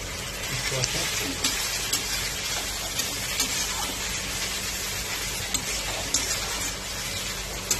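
Ginger-garlic paste and tomato masala sizzle and crackle steadily in a hot pan for an egg curry, a continuous close frying hiss with occasional soft stirring taps.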